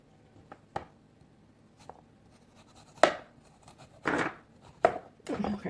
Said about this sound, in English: Let's peel the skin off the ginger.